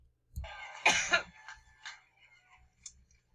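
A short burst of coughing and throat clearing, a few harsh hacks close to the microphone against a quiet background.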